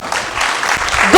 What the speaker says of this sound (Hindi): ताली बजाएं साहब।